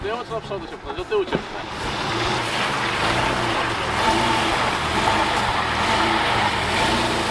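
A car towing a sled with no runners pulls away on concrete with a rising engine drone and a rough scraping rumble. Excited voices chatter at the start.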